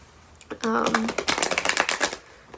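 Tarot cards riffle and slap together in quick rapid bursts, close and fairly loud, after a short stretch of a voice speaking.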